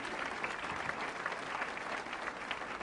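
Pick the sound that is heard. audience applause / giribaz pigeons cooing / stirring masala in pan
audience applause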